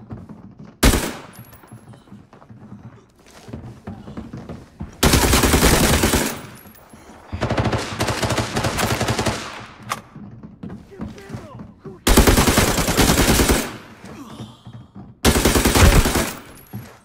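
Bursts of automatic gunfire in the game Arena Breakout's Farm Rush PvP mode, loud and close, several sustained volleys separated by short gaps with softer thuds between.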